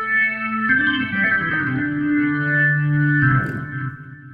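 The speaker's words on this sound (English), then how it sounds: "Of course, you can change the rotary speed using your mod wheel." Rotary speaker effect on a sustained organ-like chord from a Halion Sonic 3 synth patch, swirling and shifting as the rotor speed changes partway through, loud and steady with no voices.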